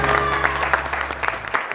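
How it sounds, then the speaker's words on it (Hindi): Studio audience on a TV morning show claps for a guest, a dense ripple of handclaps with brief louder surges, steady and close throughout. "बहुत सारी तालियां अख्तर भाई के लिए"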